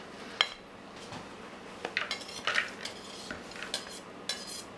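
Chopped bacon, bacon grease and caramelized onions tipped into a cooking pot, heard as a few scattered clinks and scrapes of a utensil against the pot with soft rustling between, fairly quiet and without voices.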